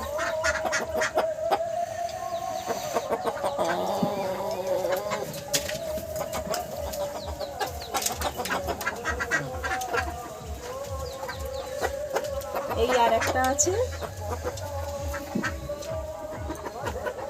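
Desi chickens cluck and call repeatedly in a home yard, a busy overlapping chorus of near and slightly farther birds, with a brief spoken remark partway through.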